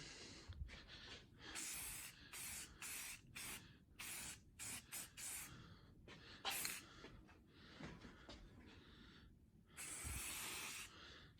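Short repeated bursts of spray paint hiss close by as a light first coat goes onto a custom Polaris Indy snowmobile nose cone plate, each hiss starting and stopping sharply with brief gaps, one longer burst near the end.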